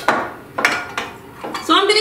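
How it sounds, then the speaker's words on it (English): Jellied cranberry sauce mashed and mixed with mustard in a bowl for cocktail meatballs, four quick scraping clinks of utensil against bowl in an uneven rhythm, close and clear. "You want to crush up that jelly cranberry sauce and mix in that mustard and get it all nice and smooth."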